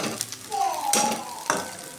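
Masala roasts in a pan for eggplant curry, with soft sizzling and a few scraping stir strokes of a spoon against the pan, close and fairly quiet.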